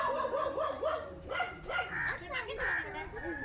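A dog barks and whimpers in short repeated bursts, close by, while a person talks over it.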